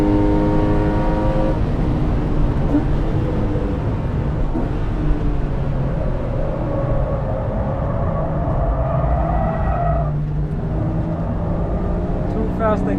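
A lightweight Porsche 997 C2S engine is pushed hard on a fast track lap, loud and close in the cabin, its tone rising through the gears with a gear change and renewed acceleration, a voice talking over it.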